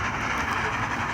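A train in the video game Deadly Train runs along the tracks, a loud, steady rumble with rhythmic clickety-clack wheel sounds throughout the short stretch.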